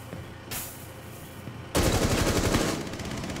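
Rapid automatic gunfire in the video game Rainbow Six Siege, with a quieter burst at first and then a loud, sustained volley of shots close by, with no talk over it.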